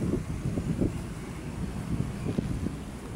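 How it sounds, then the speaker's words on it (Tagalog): Wind blowing along Manila Bay on a hot afternoon, a low, fairly quiet rushing rumble with soft gusty swells and a few faint bumps. "Mahangin naman dito guys"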